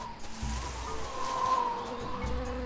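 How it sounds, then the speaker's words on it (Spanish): Bee buzzing in the video game Tales of Monkey Island, a faint continuous insect drone over low outdoor ambience, with no talk. "Abeja."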